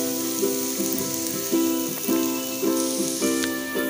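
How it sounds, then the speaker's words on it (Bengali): Ground turmeric, Kashmiri chili, coriander-cumin powder and garam masala stirred into ginger-garlic paste frying in a little ghee for masala chicken: a crackling sizzle with repeated spoon scrapes and taps against the pan, close and unaccompanied. "গুঁড়ো মশলাগুলো দিয়ে ভালোভাবে মশলাগুলো নাড়াচাড়া করে মিশিয়ে নিতে হবে"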